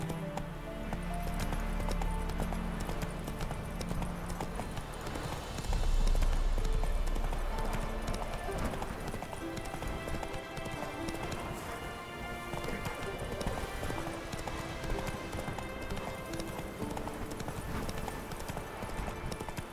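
Roach the horse trotting in The Witcher 3, a steady run of clip-clopping hooves close by with game ambience and a faint rain-like patter beneath, lasting throughout with no speech.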